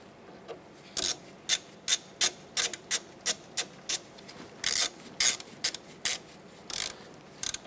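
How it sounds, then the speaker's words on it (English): A ratchet snugs down three bolts on a front wheel hub bracket of a 2008-2012 Honda Accord, giving a steady run of close, crisp clicking bursts in quick rhythm with brief pauses between strokes. "Let's go ahead and snug all three of these down now."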